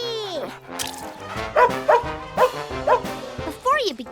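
A handsome groomed pet dog gives several short barks and yips in a steady series, close and fairly loud, with a voice talking around them.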